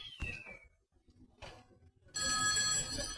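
A telephone bell rings loudly and steadily for about a second near the end, after a short cat-like meow and scattered faint knocks and rustles.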